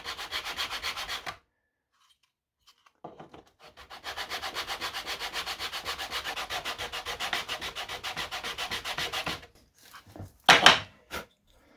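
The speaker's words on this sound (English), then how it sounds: "you slide it backwards and forwards, and what it'll do is give you a perfect 90-degree sanding to it" Wood sanded with a Permagrip sanding block, a fast rhythmic back-and-forth rasping, close and loud, in two runs separated by a short pause, followed by a few knocks.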